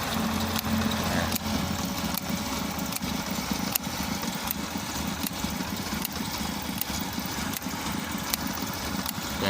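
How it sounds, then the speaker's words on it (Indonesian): A 1987 car engine idles steadily and evenly, a continuous close mechanical hum with no talk over it. "dan sangat halus, masih sangat halus mesinnya teman-teman"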